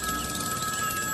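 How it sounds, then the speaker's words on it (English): A telephone rings with a steady, piercing electronic tone that holds continuously, loud and close, over a light background hiss with no talking. "we factor in the mind-shattering sound of the ringing phone"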